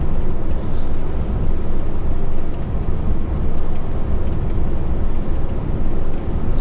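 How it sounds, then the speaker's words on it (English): An HGV lorry descending a hill on a UK road between Dorchester and Yeovil with its engine brake applied, producing a loud, steady low rumble of engine and road noise throughout, with no voices. "we're starting to go down a hill now, so we're going to apply our engine brake"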